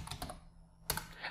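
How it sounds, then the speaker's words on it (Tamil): Fingers tap a computer keyboard while a pincode is entered into an online ration card application form, with quick clusters of crisp clicks, a brief pause, then another burst of keystrokes close to the microphone. "பின்கோட் டைப் பண்ணிக்கிறேன்"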